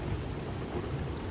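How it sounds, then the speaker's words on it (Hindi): Cartoon storm scene with rain and thunder flooding a house in cold weather: a short burst of steady rain noise with a low thunder rumble underneath, fairly quiet and continuous. "ठंड की बारिश में घर में इतना पानी आ गया"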